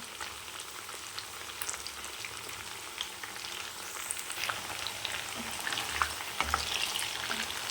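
Chilli chicken pieces fry in oil while being stirred, a dense crackling sizzle with occasional scraping stirs, close and continuous without talk.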